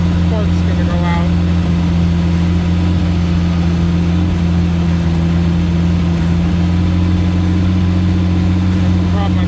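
A 1976 Mustang II Cobra engine with solid lifters idles steadily and loudly up close, a constant droning hum with faint, regular ticking over it.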